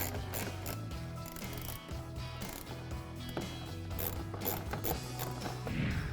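A ratchet clicks in rapid repeated bursts while backing out the screws holding the marker light housing on a 2015-2020 Ford Mustang, close and fairly loud, with no talking.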